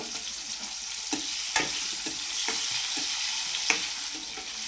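Salted fish pieces fry in hot oil in a pan, crackling and sizzling steadily up close, with sharp stirring scrapes and spatula knocks breaking through every second or so.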